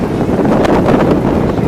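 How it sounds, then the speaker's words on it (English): Strong wind buffets the microphone outdoors in Melbourne, Australia, a loud continuous roaring rumble with gusty swells throughout and no speech. "it's so windy."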